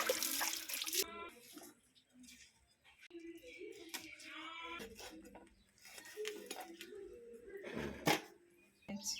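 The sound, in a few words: rinsing country chicken pieces with turmeric water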